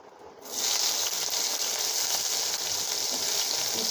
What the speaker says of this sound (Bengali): এই উচ্ছেগুলো ভেজে নেবো